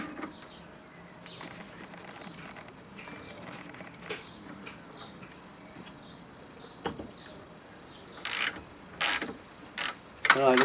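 Ratchet socket undoing bolts on a MK2 Golf GTI front wheel bearing housing, with sparse quiet clicks through most of the stretch, then several louder ratchet bursts close by near the end.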